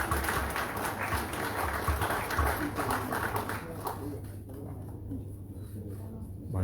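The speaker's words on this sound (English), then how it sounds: "Chief Justice Sie-A-Nyene Gyapay wins an applause from the audience" Audience applause at the commissioning ceremony of Liberia's new Chief Justice, Sie-A-Nyene Gyapay, a dense, steady patter of many hands clapping throughout, thinning slightly toward the end.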